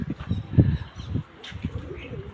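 Pigeons cooing nearby in low, repeated throaty calls, with a few faint chirps and light rustling in the background.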